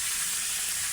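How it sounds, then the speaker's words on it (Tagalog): Batangas tilapia from Talisay frying in a pan, a steady bright sizzle and hiss filling the moment with no break and no voices over it. "ito nagpiprito kami ng tilapyang Batangas"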